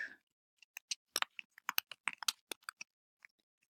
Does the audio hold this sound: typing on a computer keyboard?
yes